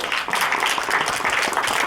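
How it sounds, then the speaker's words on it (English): Audience claps after a slam poetry performance, a short burst of lively, close applause at steady volume. "Round of applause."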